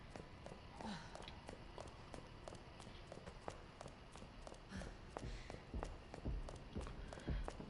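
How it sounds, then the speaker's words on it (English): Heavy, evenly spaced footsteps from Mr. X in the Resident Evil 2 Remake video game thud steadily, growing somewhat louder and weightier toward the end, with no talk over them. "I hear Mr. X footsteps."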